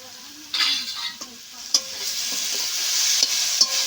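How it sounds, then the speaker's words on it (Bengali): Paneer and potato filling is stirred in a hot pan, a soft sizzle under irregular scraping and knocking strokes of the spoon, close and moderately loud. "এইভাবে নেড়ে চেড়ে পুরটা বেশ ভালো করে তৈরি করে নেব"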